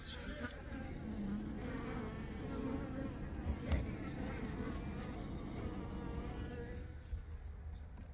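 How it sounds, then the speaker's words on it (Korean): Korean native honeybees hum steadily at their hive outdoors, a dense continuous buzz of many insects close by with no talking. "이 숯벌이 보입니다."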